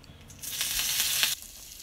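Curry leaves and mustard seeds hitting hot oil for a Kerala-style ladies finger kara kuzhambu, a sudden bright hiss that swells for about a second, then cuts back to a quiet background.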